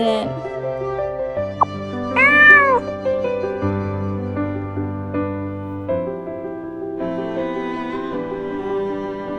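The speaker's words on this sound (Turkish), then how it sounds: "Bu nedir? Bir yavru kedi mi?" A kitten's thin, rising meow cuts in briefly over a soft melodic music bed in a home-decorating princess game, a single short cry standing out clearly from the tune, with no voices.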